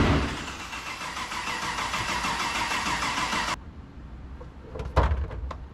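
An LS3 6.2-liter V8 swapped into a Mercedes cranks and runs under throttle for a few seconds, a dense steady mechanical roar that cuts off abruptly, followed by quieter clicks and a brief knock.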